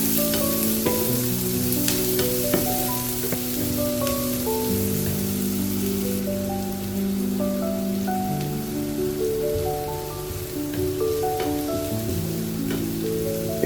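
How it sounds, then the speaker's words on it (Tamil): Onions and curry leaves sauté in hot oil for Chettinad pepper chicken, a steady crackling sizzle like light rain, heard alone and close. Sustained musical tones play throughout. "கூடவே கொஞ்சம் கருவேப்பிலையும் ஆட் பண்ணி நல்லா வதக்கி விட்டுக்கலாம்."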